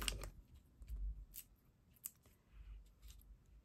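Scissors snip through a sheet of craft paper, cutting it in half: a few quick, crisp close-up cuts with a short pause between them, set against quiet room noise.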